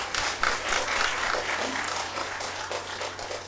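Scattered clapping from an audience at a Bharatiya Bhasha Parishad award ceremony, a steady patter of many hands over a low hum, moderately near and holding at an even level throughout.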